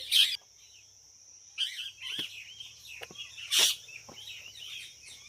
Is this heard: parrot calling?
yes